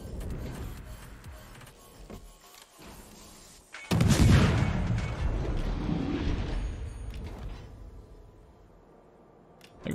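Warship guns boom in a naval battle video game, a heavy burst of artillery fire followed by a long rumbling roar that slowly fades, with lighter mechanical clatter beforehand.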